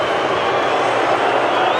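A rugby stadium crowd at a New Zealand versus Australia match gives a brief, loud wash of roaring noise that holds steady across the moment.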